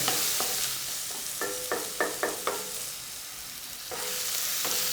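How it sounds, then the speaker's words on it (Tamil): Tomatoes sauté in hot oil with a soft sizzle, while a series of sharp clacking stirring strokes comes in quick bursts near the middle. The sound is close and quiet, and no one speaks. "தக்காளி நல்லா வதங்கட்டேன் எண்ணெயில்"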